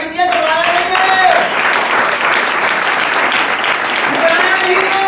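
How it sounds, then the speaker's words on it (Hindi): Sustained applause from a church sermon audience fills the whole stretch, dense and steady, with a few voices calling out over the clapping. "जोरदार तालियां बजा दीजिए"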